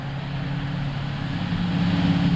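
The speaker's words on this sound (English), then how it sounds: "Here comes a car." A car approaches on a road, a steady low engine and tire rumble that builds gradually in loudness over a couple of seconds with no talk.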